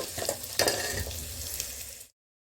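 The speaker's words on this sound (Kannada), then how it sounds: "ಕರಿಬೇವು ಈರುಳ್ಳಿ ಎಲ್ಲ ಸಾಫ್ಟ್ ಆಗೋವರೆಗೂ ಬಾಡಿಸಿ" Curry leaves and onions sauté in a pan for upma, giving a steady close sizzle with a sharper scrape of stirring, then cutting off abruptly.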